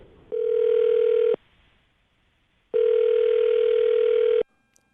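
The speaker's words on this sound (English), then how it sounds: "I'm going to dial his phone number right now" A telephone line gives two long, steady electronic tones, the first about a second long and the second nearly two seconds, separated by a brief silence, clear and close with no talking.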